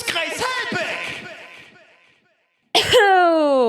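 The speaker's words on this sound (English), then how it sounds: "great way to start is by coughing directly into a microphone" Someone coughs and clears their throat directly into a close microphone, a short rough burst that trails off into silence before a sudden loud tonal sound cuts in.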